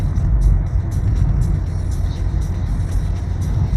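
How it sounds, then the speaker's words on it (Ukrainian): A car drives along a country road through villages in Ukraine's Cherkasy region, heard from inside as a steady, loud low rumble of engine and tyres with no talking. "Їдемо з Женією, проїжджаємо наші села"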